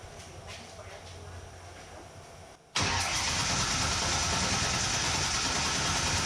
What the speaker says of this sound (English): Disconnect the coil, just crank it for a minute.